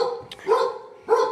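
A dog barks twice in quick succession outdoors in a yard, a short sharp yip followed by a fuller bark, fairly close and moderately loud.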